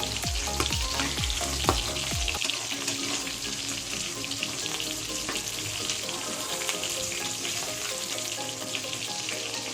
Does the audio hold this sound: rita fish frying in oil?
yes